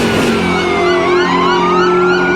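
A police car siren wails loudly and close, its pitch sweeping up and down over a steady engine hum throughout, with no speech.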